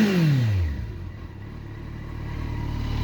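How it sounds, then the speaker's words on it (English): A 2012 Kawasaki Concours 14 motorcycle engine revs up close, a rising rumble that drops back into a steady low idle. "I know exhaust doesn't do justice on cell phones, but we'll rev it up anyway."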